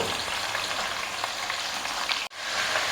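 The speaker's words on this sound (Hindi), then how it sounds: "चिकन डाल के इसको फ्राई करेंगे।" Chicken fries in a pan, a close and steady sizzle that holds even throughout, broken by one brief drop near the end.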